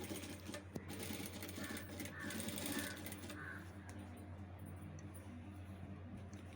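Sewing machine stitching the folded cloth of a school uniform collar: a steady, fast mechanical whir with rapid needle clatter runs continuously at moderate closeness, with no talk over it.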